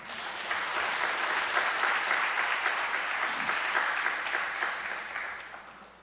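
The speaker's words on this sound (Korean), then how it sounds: "우리 허은거 목사님 나오실 때 큰 박수 하시겠습니다" A church congregation at a festival worship service claps for a pastor coming forward, a dense, even wash of applause that swells up, holds for several seconds and fades toward the end.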